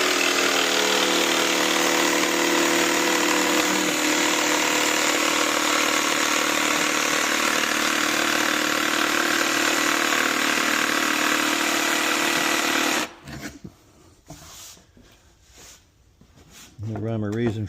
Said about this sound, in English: I use this little 1/8 inch bit with the donut intact to route out this.